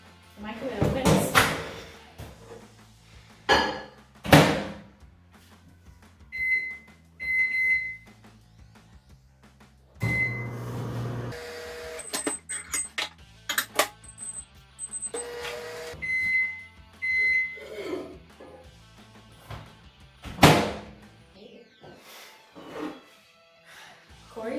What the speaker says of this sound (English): I'm going to put them separately in the microwave for 2 minutes each.